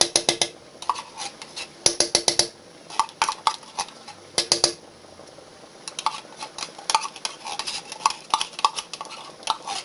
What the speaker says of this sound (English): Okay, give this a stir.